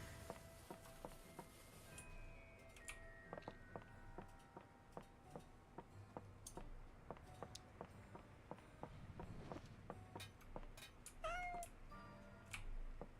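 A house cat meows indoors during a gaming session, a short, fairly faint cry rising near the end over steady ticking and clicking sounds and low background hum.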